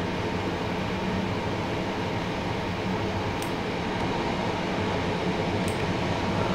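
A simulated Class 375 electric multiple unit in old Southeastern livery runs between Bromley South and London Victoria in Train Simulator 2018, giving a steady, loud rolling rumble and hum with two faint high clicks.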